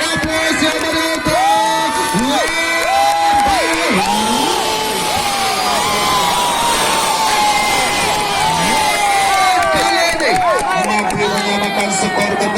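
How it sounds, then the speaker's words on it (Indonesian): Spectators at a football match in Bondowoso cheer and shout loudly, with whoops and children's yells rising over a constant crowd roar, while an amplified commentator talks over the noise throughout. "Ya kasih aplaus yang menonton"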